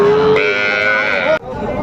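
A young three-month-old bull calf moos close by at the Raniganj cattle market in Dinajpur, a single loud sustained call that cuts off sharply, with market noise behind.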